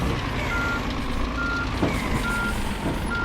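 Truck reversing beeps in the video game On The Road Truck Simulator, a steady repeating electronic tone over a continuous low engine rumble, fairly loud, with no talking.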